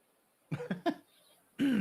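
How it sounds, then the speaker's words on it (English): A person in a courtroom during a trial hearing gives a quick burst of two or three close, dry coughs, then speaks. "I coughed."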